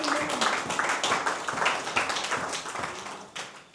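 A church congregation at a revival service claps in steady, rhythmic unison to acclaim the Lord, a dense run of quick claps with faint voices mixed in.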